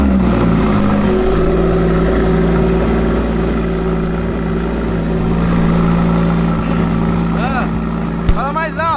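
A Porsche car engine runs and revs, a loud, close, steady engine drone with a brief rising rev near the end, while voices talk over it.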